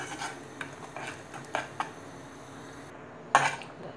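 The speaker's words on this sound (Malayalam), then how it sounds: "സ്പൂൺ ഉപയോഗിച്ച് ഇളക്കി കൊടുക്കുക" A spoon stirs wheat halwa in a pan, faint scraping and clinking strokes repeating at an uneven pace, with one sharper metallic scrape near the end.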